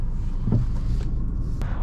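Mini Countryman JCW high-performance compact SUV pulling away, a steady low engine rumble with a brief swell of revs, heard from inside the cabin.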